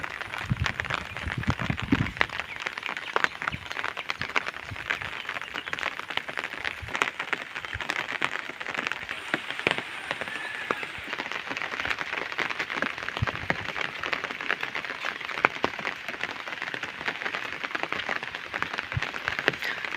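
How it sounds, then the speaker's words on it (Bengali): Heavy rain pours steadily on a Bangladeshi village, a dense crackling patter on surfaces that never lets up, with no talking. "সকাল সকাল ভোরবেলা থেকেই অনেক বৃষ্টি পড়তেছে"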